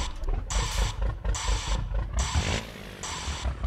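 A modded truck in American Truck Simulator or Euro Truck Simulator 2 reversing, giving four loud, evenly spaced pulsing bursts roughly once per second over a low, rumbling engine drone.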